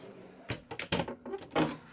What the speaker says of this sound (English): Lift the handle up slightly and you'll be able to slide the drawers out